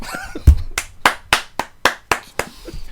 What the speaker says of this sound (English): Are you applauding your own podcast recording?